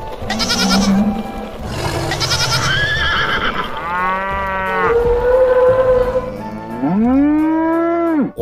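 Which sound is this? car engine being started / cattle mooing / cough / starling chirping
cattle mooing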